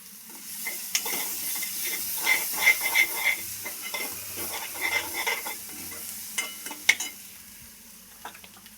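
Mixed vegetables fry with turmeric and red chili powder for Chinese rice, a low sizzle under repeated spatula stirs and scrapes against the pan, with a few sharper metal knocks.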